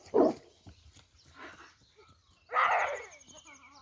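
A dog barks in three separate bursts, close and fairly loud, with whimpering, quieter sounds between them.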